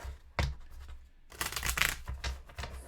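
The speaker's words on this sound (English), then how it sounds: "So we're going to shuffle these." A deck of cards is shuffled for a solo zombie-themed board game, giving a sharp riffle burst followed by a longer, louder ruffling cascade of cards, close up with no talking.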